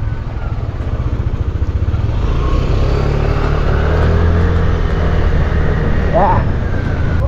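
A motorcycle drones steadily while being ridden, with constant engine noise and wind rush up close, and riders talking over it.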